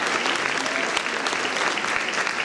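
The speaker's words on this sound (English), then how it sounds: "Let's give them a round of applause." Dense applause from a diverse crowd at a Hempstead get-out-the-vote political rally, steady and loud for the whole stretch with no talk on top.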